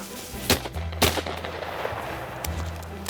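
Winchester shotgun fired at flushed bobwhite quail during a Southern quail hunt with English cocker spaniels, with two sharp reports about half a second apart followed by a third shot near the end, loud and close over outdoor background noise.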